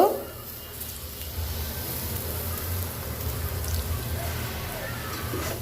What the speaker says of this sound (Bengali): মধ্যে মধ্যে জলের ছিটা দিতে হবে, একসাথে দিলে হবে না জল।